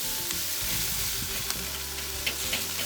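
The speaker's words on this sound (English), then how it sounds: "what we're going to do here is do a quick sear to get these things just ready to go." Cowboy ribeye steaks sear on a Weber charcoal grill with a loud, dense, steady sizzle and crackle, plus a few brief clicks and shifts as the meat settles on the grate.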